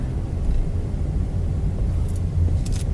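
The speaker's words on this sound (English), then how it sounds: "To go to second gear, push in the clutch, off the gas, move to second, knob to second, same thing." A manual car's engine runs as the driver shifts into second gear, a steady low rumble with slight swells in level and a few faint clicks near the end, no voices.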